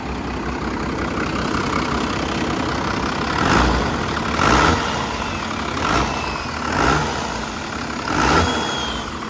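The heavy 12-valve diesel engine of a Dodge W350 truck idles with a steady rumbling chug, close by, with periodic slight swells in loudness, after a decade of sitting seized and flooded.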